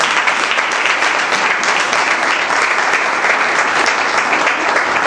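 A church congregation gives loud, sustained applause during a sermon, a dense even roar of many hands clapping together without pause.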